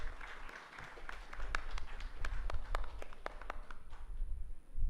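An audience at the WIEHACK 4.0 hackathon gives scattered, moderate clapping for guests of honour being felicitated; sharp individual claps ring out over a low room rumble and never build into a dense ovation.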